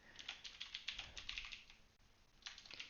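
Quick bursts of keys clattering on a computer keyboard while HTML list items are entered, a steady run of close taps that pauses briefly before resuming.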